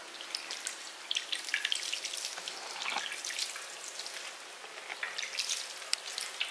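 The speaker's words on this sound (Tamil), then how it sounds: "இப்போ தண்ணி தெளிச்சுக்கலாம்." Water sprinkled over sprouting mulaipari seedlings grown at home makes a soft, irregular patter of droplets, close and fairly quiet, with no talking.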